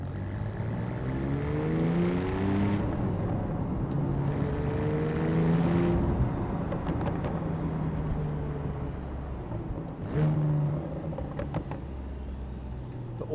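Manual Porsche GTS in sports mode with the sports exhaust open, its engine revving and burbling through downshifts with auto-blip, a steady loud drone with rising and falling harmonics and a few sharp crackles near the end.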